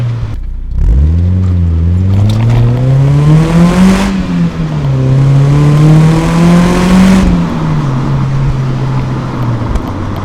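Mazda Miata with a repaired aftermarket exhaust, droning close and loud as it revs up and down through the range while driving, with sharp throttle blips on downshifts.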